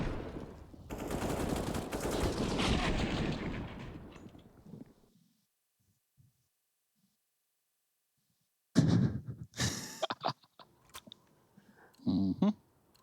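Rapid gunfire from a CS:GO match on the Nuke map fills the opening seconds as a dense, loud volley, then silence follows before a few sharp shots and bursts return later, with no talk.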